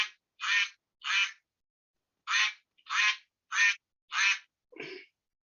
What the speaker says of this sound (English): This is a duck, Zora, Zora.